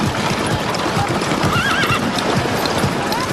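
Horses pulling a runaway wagon at speed, a steady loud rush of hoofbeats and rumbling wheels with horses neighing and whinnying over it throughout.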